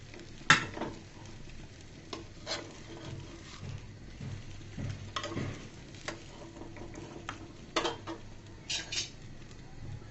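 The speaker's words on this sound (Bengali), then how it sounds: "উল্টিয়ে পাল্টিয়ে সুন্দর করে ভেজে নিব।" Egg-stuffed paratha frying in a pan, a low steady sizzle broken by occasional scrapes and taps as it is turned, quiet and close with no voices.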